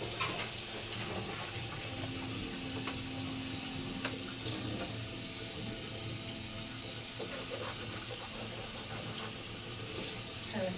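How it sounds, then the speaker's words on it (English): Water runs steadily from a sink tap during a mouth rinse at a teeth whitening service, a continuous close splashing hiss lasting throughout with no talk. "I'll have you come on over to the sink here. And just go ahead and rinse a couple times."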